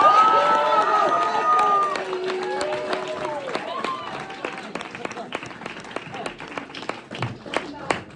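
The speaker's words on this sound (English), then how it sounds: "can you start a big round of applause for me?" A crowd claps and cheers loudly at first, the applause thinning into scattered claps while a voice talks over it.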